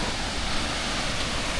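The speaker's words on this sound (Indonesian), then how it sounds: "akhirnya kita sudah sampai di air terjun yang viral itu teman-teman" Steady, loud broadband roar of a waterfall beside a cliff edge on the Torean trail of Mount Rinjani, a continuous rushing wash with no breaks and no voices.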